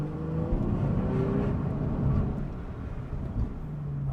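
A Porsche 911 991.1 Carrera S engine drones loudly in second gear with a low, rough rumble while the car pulls forward, steady with slight surges in the revs.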